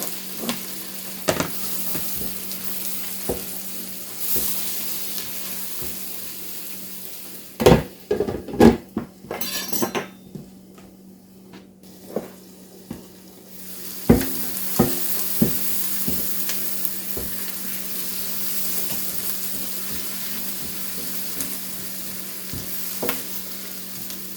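Garlic sizzles in a frying pan for a lasagna sauce, a steady hiss broken by sharp clanks and scrapes of a utensil against the pan, loudest in a brief flurry midway before the frying settles back.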